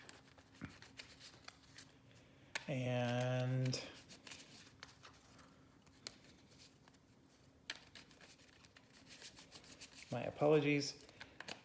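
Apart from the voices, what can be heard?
shuffling board game cards, Spacecorp deck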